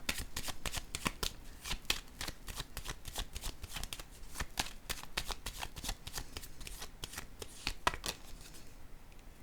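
Tarot cards shuffled and handled in a continuous run of crisp, rapid riffling flicks, close up and steady, with no voices over it.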